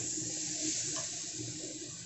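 Water poured into a curry pan of singi fish curry with kulpo greens, a steady continuous splashing gush close by, alone and unbroken throughout.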